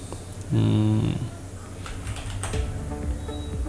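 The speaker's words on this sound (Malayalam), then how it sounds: "ഇങ്ങനെ നമുക്ക് ടൈപ്പ് ചെയ്യാം" Malayalam text is typed on a computer keyboard, a few scattered key clicks sounding close by while a voice briefly talks over them.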